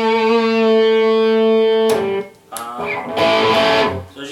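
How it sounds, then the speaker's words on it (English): An electric guitar played through a Peavey Classic 30 amp's distortion channel, gain near halfway up on the bridge pickup: a loud sustained distorted chord rings for two seconds, then choppy strummed and muted bursts with sizzly fizz, no talking. "It's got a very sizzly distortion to me."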